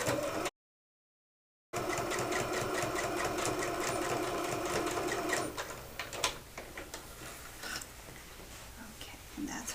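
A sewing machine stitches the side of a large tote bag, a steady close whir that runs almost without a break, then gives way to scattered handling clicks and rustles.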